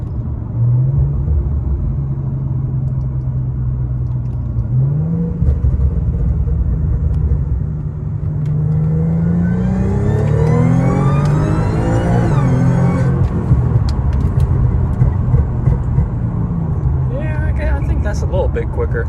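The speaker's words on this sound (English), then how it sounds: "Driving over to work now, and put a little bit of miles on it" Car fitted with a Hemi 80mm throttle body and ported blower on a 3.0t engine, a loud steady engine rumble that swells into a rising rev and whine, then settles, close throughout.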